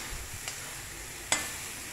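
Spring onions fry in a pan with a faint, low sizzle, broken by two soft scraping stirs, the second one sharper, and no talking.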